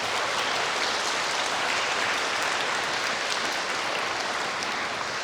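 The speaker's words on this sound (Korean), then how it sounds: "우선 오늘 부재 석판을 받은 에스더 수녀님 뜨거운 박수 한번 다시 한번." Sustained, dense applause fills a church centenary celebration for a congregation of religious sisters, the steady wash of many hands clapping loudly and evenly throughout without pause.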